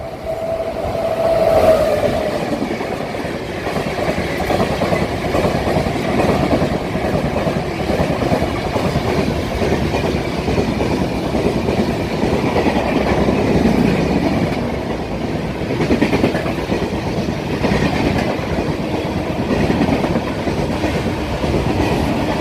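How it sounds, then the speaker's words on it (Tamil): The Coromandel Superfast Express, Howrah to Chennai Central, rumbles past steadily for the whole stretch, with a continuous roar and a rhythmic clatter of wheels over rail joints, loud and close. "நிஜமாலே சம்பவம் பண்ண ட்ரெயின் இந்த கோரமண்டல் சூப்பர் ஃபாஸ்ட் தான்"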